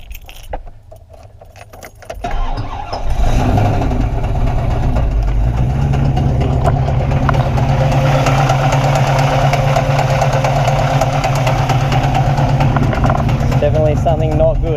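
A damaged LS1 V8 in a VN Commodore at a drag strip cranks over and catches after about two seconds, then idles roughly and loudly and steadily, with a low uneven rumble and some faint voices and jingling nearby.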